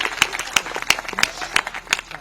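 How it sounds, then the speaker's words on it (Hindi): Audience applause at a Hindi stage comedy event, heard as a sparse round of individual claps with a few sharp peaks rather than a dense roar, moderately loud. "जोरदार तालियां होनी चाहिए।"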